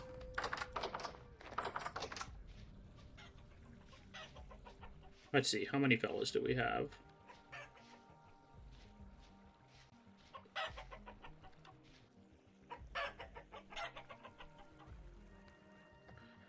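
A couple of hens cluck softly in a coop on a small winter farm, scattered short calls between clicks and rustles, while someone talks nearby.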